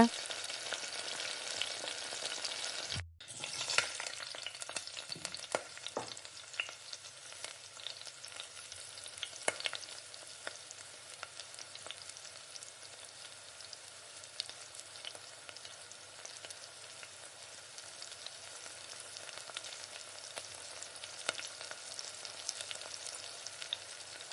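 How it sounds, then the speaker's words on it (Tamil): Chicken kurma cooking in a covered pan on a stove turned down low, giving an even, faint bubbling sizzle that runs the whole time, broken by one brief clunk near the start, with no voices. "ஸ்டவ்வை முழுமையாக கம்மி பண்ணி வச்சுட்டு ஒரு 5 நிமிஷம் அப்படியே வேக விட்ருங்க"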